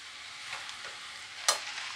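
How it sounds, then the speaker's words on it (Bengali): Chowmein noodles stir-fry with Schezwan, tomato and soy sauce, making a soft, steady sizzle. A sharp utensil clank cuts through near the end. "একটু ভাজা ভাজা করতে হবে।"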